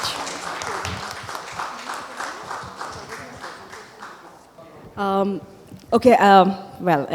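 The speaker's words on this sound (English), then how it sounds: "help me welcome, with a warm round of applause, Ms. Kritika M" An audience at a startup forum session claps to welcome a speaker onto the stage, a busy, moderately loud patter for several seconds that thins out before a voice begins talking over the end.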